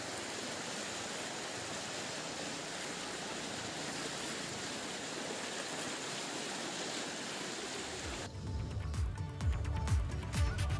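The flooded Sneh river, swollen about four feet, rushes in a dense, steady roar of flowing water. Near the end it gives way to lower, gusty buffeting.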